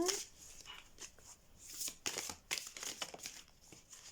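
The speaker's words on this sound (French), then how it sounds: "On va en tirer une autre pour avoir un deuxième message sur les cartes d'activation." A card is drawn from a Pleiadian oracle deck, giving soft papery shuffles, slides and crinkles in quick irregular bursts, close and fairly quiet, with no talking.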